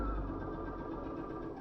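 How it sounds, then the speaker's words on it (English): Domestic sewing machine stitching steadily, a continuous mechanical whir with a fine rapid rhythm, close and even throughout, no talking. "let's go over to the sewing machine and hope that that works"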